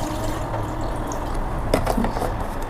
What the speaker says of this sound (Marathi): सोयाबीन चिली बनवण्यासाठी आपण सर्वप्रथम एका पॅनमध्ये पाणी घेतोय